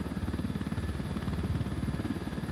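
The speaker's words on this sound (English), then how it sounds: "Deploying drone." A steady, pulsing low mechanical whir rises from a deploying drone in a tactical shooter video game, with close, even, vibrating rhythm throughout.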